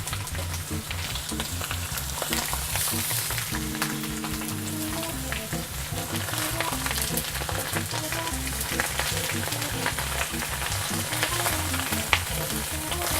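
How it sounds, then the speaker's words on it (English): Meat pieces sear in a hot pan with a steady, dense sizzle that runs without a break for the whole stretch. A faint tonal backing sits underneath, and no one speaks. "because we're searing these, we do want them to get a little blackened"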